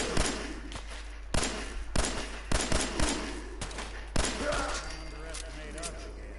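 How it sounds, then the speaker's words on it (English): Video game gunfire in Fallout 4's Commonwealth, with several sharp, loud shots in an irregular burst, each cracking then decaying, followed by lighter scattered clatter and faint background sounds. "What are you shooting me for?"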